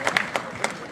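A few quick bursts of audience clapping welcome a prize award at a political birth-anniversary gathering; the applause is brief, scattered and moderately loud.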